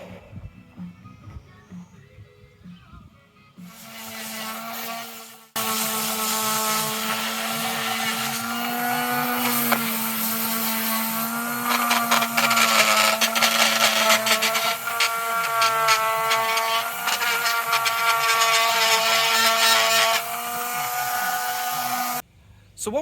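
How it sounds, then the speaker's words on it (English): A power saw cutting wood for canoe seat cushions during a restoration of a Sportspal flatback canoe, a loud sustained whining buzz up close after a quieter start, with voices beneath. "what we're doing right now is cutting the wood for the seat cushions"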